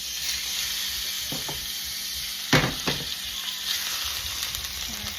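Marinated pork chops sizzle loudly in a hot pan with oil, a steady close crackle broken by a few sharper spatters and clinks as pieces are added or moved, with no talking.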